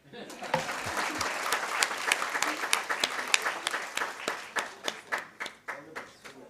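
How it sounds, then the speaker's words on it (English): An audience at a degree distribution ceremony claps, starting as a brief burst of many hands, then thinning into a few scattered, distinct claps that continue alone. "So one more clap."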